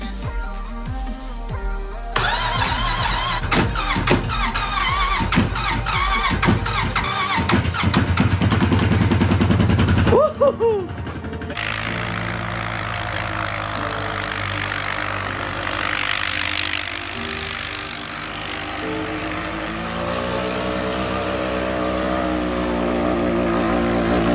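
A Honda Rubicon 520 DCT ATV engine cold-starts outdoors: a broadband rattling crank and catch, then a steady close idle that holds through the rest of the clip.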